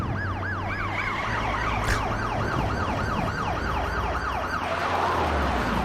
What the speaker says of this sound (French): l'ambulance qui arrive vraiment à toute berzingue là comme ça